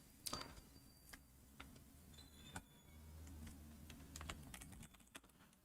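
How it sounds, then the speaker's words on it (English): Keystrokes on a computer keyboard tap out in quick irregular bursts, close and fairly quiet, with no voices over them. "I'm just typing random things here."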